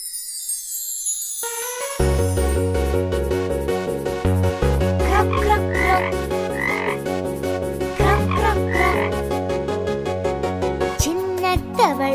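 Frog croaking in a fast, regular rhythm of repeated deep croaks, loud and close, set against a musical backing that starts after a brief quiet opening.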